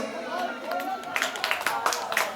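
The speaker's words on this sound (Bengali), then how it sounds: "জোরে একটা হাততালি হোক" Scattered clapping from an audience at a community prize-giving during a Bijoya Sammilani gathering, building into a run of sharp claps alongside ongoing crowd chatter and talking.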